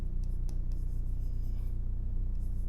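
A pen or marker scratches out short strokes of math on a board or paper in a class lesson, giving faint, brief scratches over a steady low hum.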